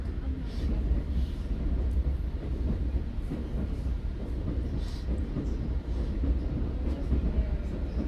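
A GO Train rides into Toronto with a steady loud rumble of the rail car interior and faint clicks from the track, continuous throughout.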